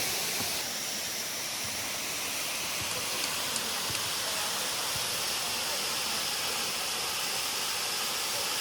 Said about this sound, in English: Guys, we are currently at the Asenema Waterfalls, as you can see